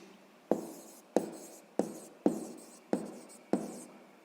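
Pen strokes on paper come in six regular scratching bursts about half a second apart, close and quiet, each starting sharply and trailing off, with no talk.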